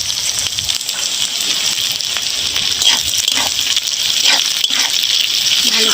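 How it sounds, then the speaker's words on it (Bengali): Capsicum, cashews and raisins sizzle steadily in a frying pan, a loud, continuous hiss with faint crackles throughout and no talk. "ভালো করে ভাজবো।"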